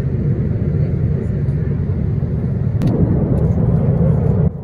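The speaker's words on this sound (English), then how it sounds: "The sound of an aeroplane in flight is created by the hum and the roar of the engines" A steady, smooth engine drone and rushing roar from an airplane in flight, constant and loud, with a faint voice under it.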